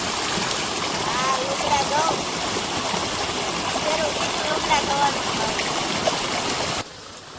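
Continuous splashing, running water with light sloshing as clothes are washed by hand, steady and close, ending abruptly near the end.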